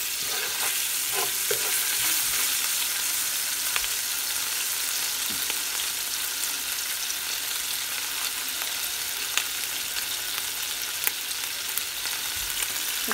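Ginger garlic paste fries in hot oil in a pan while a utensil stirs it, giving a steady, bright, close sizzle with occasional scraping clicks and no voices.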